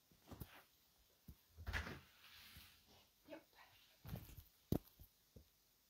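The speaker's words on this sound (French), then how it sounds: "je vais lui ouvrir la porte, comme ça il peut partir." A door is opened indoors to let a small male cat out, giving soft creaks, knocks and a sharp latch click among faint handling noises.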